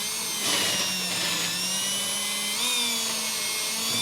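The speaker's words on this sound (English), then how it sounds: "But we'll go ahead and get this drilled out first." A power drill with a small bit bores a pilot hole for the bolts of a Lippert JTs Strong Arm 5th wheel RV jack stabilizer kit, a steady whining motor tone that rises in pitch partway through and runs without pause throughout.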